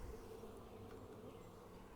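Honey bees buzz steadily during a hive inspection of the second deep box, a close, continuous, even hum that holds at a constant level throughout with no voices.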